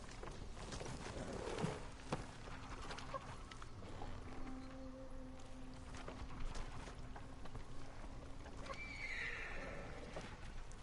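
Horses whinny and snort in the video game Ghost of Tsushima over a steady background of clip-clopping hooves, with a higher neigh near the end; no talking.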